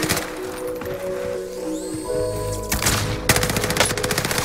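Video game gunfire breaks out near the end, a loud run of rapid shots over layered game sounds and a low rumble.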